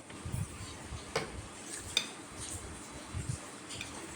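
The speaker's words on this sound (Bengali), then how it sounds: "একটু ভালোভাবে নাড়াচাড়া করে নেব" A ripe mango mixture is stirred in a pan: soft, scattered scrapes and light clinks of a spoon against metal, quiet and intermittent over a faint background.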